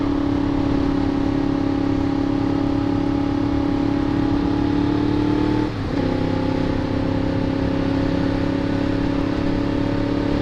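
Yamaha FZ-10 motorcycle fitted with a Yoshimura exhaust cruising under a steady, loud engine drone, with a brief dip and pitch drop at a gear change before the hum settles again.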